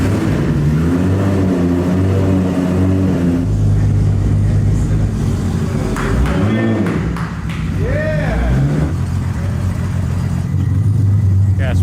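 A 1994 Toyota Supra Turbo engine runs close by at a steady, loud idle, with a couple of brief revs swelling and falling partway through as the gears are checked.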